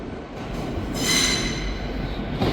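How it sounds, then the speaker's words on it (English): An LNER service from Inverness, unit 800-109, pulls into Perth station with a steady rumble of wheels and rising high-pitched squeal from the rails, close and continuous throughout. "Arriving in now is the 12:01 LNER service from Inverness to London King's Cross."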